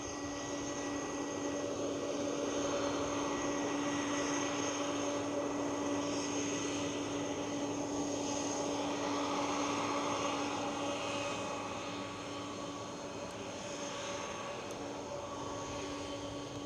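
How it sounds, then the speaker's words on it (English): EasyJet Airbus A320 airliner on final approach to Edinburgh Airport, a faint, distant, steady engine hum with tonal whine, constant throughout and easing slightly near the end, no talk. "We have an EasyJet on final approach."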